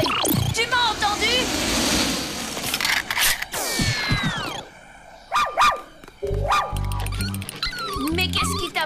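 A cartoon dog from the French-dubbed animated series Robotboy yips and barks in short bursts, mixed with music and sound effects, while voices talk over parts of it.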